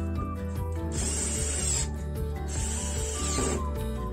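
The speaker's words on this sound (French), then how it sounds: "Je vais pouvoir maintenant visser mes vis dans mon mur avec mon étagère." A 12V INVENTIV cordless drill-driver in first gear drives screws through a shelf into a wall, with two loud whirring bursts of motor and grinding thread, each lasting about a second, close up with no talk.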